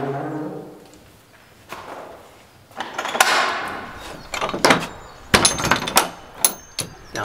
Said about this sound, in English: Now that is an old door.